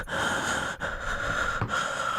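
A voice imitating heavy breathing, as if heard over a phone call, comes as close, loud, breathy gasps and snorts in a continuous stream with two short dips in between.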